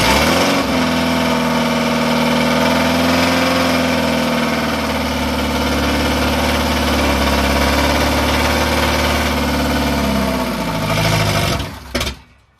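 A 1969 Ford Capri engine, newly installed, fires up and settles into a steady, loud idle with a throbbing low rumble that continues before cutting off near the end.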